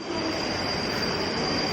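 A metro train runs along a railway track, a steady close rumble with a faint high wheel whine and no talking, heard briefly and evenly throughout.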